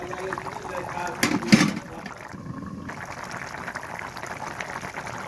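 A village-style curry of large rohu fish with potato and cauliflower bubbles in a pot, a steady close simmering burble with a louder gurgling burst early on, then softer boiling throughout.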